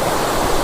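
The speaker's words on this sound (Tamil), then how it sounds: "பெரிய ஃபால்ஸ் அவ்வளோ தண்ணி வருதுங்க." Large waterfall at Catherine Falls in Kotagiri, a steady, loud broadband roar of heavy falling water filling the whole short stretch with no voices.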